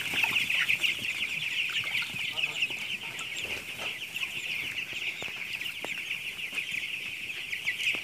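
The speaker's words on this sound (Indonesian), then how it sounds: "Ini ayamnya sudah mulai kehausan." Broiler chickens in a poultry house cluck steadily as a flock, with a dense, continuous chorus of close and distant calls throughout and no talking.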